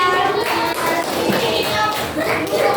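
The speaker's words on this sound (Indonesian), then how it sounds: "Oke, tepuk tangan untuk Fahira." Children in a classroom clap their hands, a short, close burst of uneven clapping mixed with shuffling and small voices.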